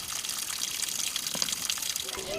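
Pure spring water gushing steadily from a source in a mountain ecological reserve, a continuous bright splashing rush heard up close.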